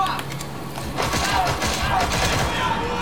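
Bursts of gunfire in Metal Gear Solid V: The Phantom Pain rattle through dense game action and thumps, with voices talking over the shooting.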